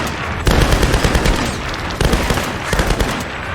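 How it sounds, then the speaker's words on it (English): Machine gun fire in the Tomb Raider: Definitive Edition video game rattles in loud, rapid bursts, with a short break near the middle before firing resumes, dense and close. "I have a machine gun."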